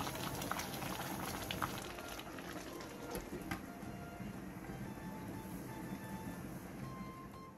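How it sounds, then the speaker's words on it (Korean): A stew of sweet potato stems and yellow croaker simmers in a pot, a quiet, steady bubbling and gurgling that continues evenly throughout. "물이 바글바글 끓어오르면 중약불로 줄여 20분간 더 끓여주세요"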